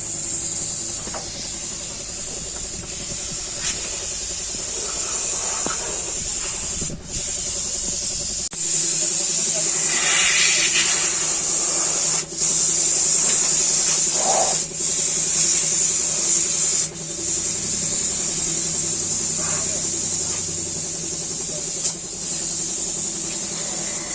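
A tractor is washed with a pressure water spray, a loud continuous hissing jet that shifts as it sweeps across the machine, with an engine droning underneath and occasional knocks and rubbing sounds.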